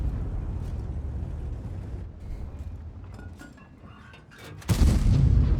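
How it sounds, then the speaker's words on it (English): A tank cannon firing HE shells in the World of Tanks video game: a low rumbling battle bed, then one sudden heavy boom near the end that stays loud. "He's firing HE, it's not a problem for us."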